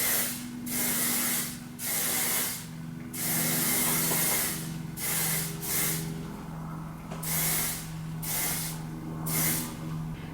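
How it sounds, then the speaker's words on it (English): Hair product sprayed over hair in a series of close, hissing aerosol bursts, about eight of them in an uneven rhythm, each lasting roughly half a second, with no talking. "you can just spray this all over"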